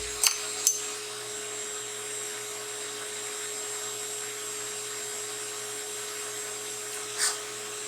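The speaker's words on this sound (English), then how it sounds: "I'll just use the instrument to take away the excess stone" A dental lab rotary instrument whines steadily and thinly while trimming excess stone from a die, with a couple of sharp clicks at the start and a brief louder grind near the end.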